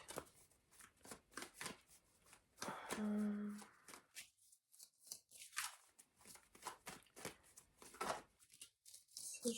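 Crisp riffling of tarot cards being shuffled, repeated in quick bursts at close range, with a brief soft hum midway and short quiet gaps.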